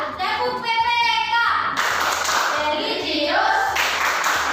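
Children in a classroom perform the Tepuk PPK clapping routine, rhythmic patterned claps mixed with young voices chanting along, loud and close, with a brief shift in texture midway.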